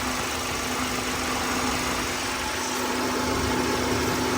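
A Kia Sonet 2022 engine idles steadily without a break, a constant mechanical hum with a high whine running through it, close and fairly loud.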